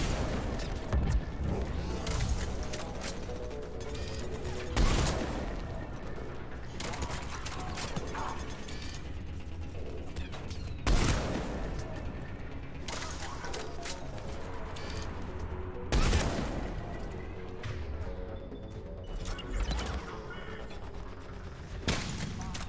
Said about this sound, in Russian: Глупая турель